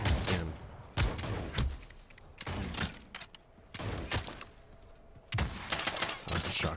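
Shotgun blasts in the fantasy battle royale game Realm Royale: several loud, sharp booming shots spaced about a second apart, each ringing out with a short tail, with no talking.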